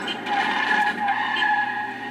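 A car's tires skid and squeal through a sharp U-turn in the Crazy Taxi video game, one continuous, loud screech lasting about two seconds with no talking.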